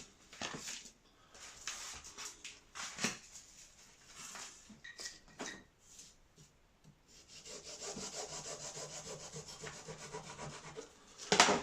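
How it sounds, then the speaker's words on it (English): Fine tooth hand saw cutting heavier timber while making a part for a Fokker DR1 elevator, with irregular rasping strokes early on, then a steady close run of sawing strokes toward the end. "The fine tooth saw is really useful when you come to cut heavier timber."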